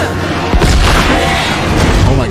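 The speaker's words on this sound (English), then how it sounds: "Oh, the fireworks!" Fireworks exploding in a scene from Stranger Things Season 3, a loud boom followed by a dense crackling barrage that fills the scene, with voices and score underneath.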